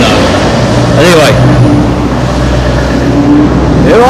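Trucks drive past on a road at Ternhill, Shropshire, making a loud, steady engine roar and tyre rumble that fills the whole stretch, with a voice faintly audible underneath.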